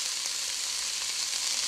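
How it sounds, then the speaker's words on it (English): Diced onion sizzles steadily in hot oil in a pan for split pea soup, a continuous close frying hiss with no talking. "We're going to let that sizzle."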